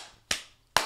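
Two sharp, bright hand claps ring out alone, spaced about half a second apart, each a crisp snap over near silence.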